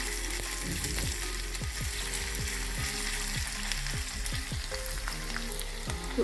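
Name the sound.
curry leaves cooking in a pan for oats upma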